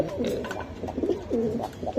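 Racing pigeons coo close by, a series of low, rolling coos repeating in a loose rhythm, with no one talking over them.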